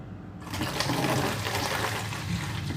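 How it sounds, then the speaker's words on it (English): Liquid poured through a funnel into a container makes a sudden rushing, splashing stream that starts after a brief quiet moment and continues steadily and fairly close. "I'm gonna pour this inside of here first."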